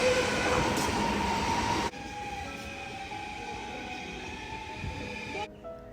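A German-built train at a station in the Netherlands rumbles steadily with a high whine, then the noise drops and quieter train hum and faint talk continue before it cuts out.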